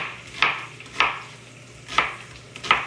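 A knife cutting an onion into bite-size pieces on a board, four sharp chops spaced irregularly about half a second to a second apart, close and clear with no talk.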